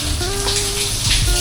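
Shower water runs steadily and close by, a continuous hissing spray with no pauses.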